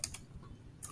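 A few sharp computer keyboard key presses, including an Enter key strike, sound as brief close clicks with quiet gaps between them and no voices.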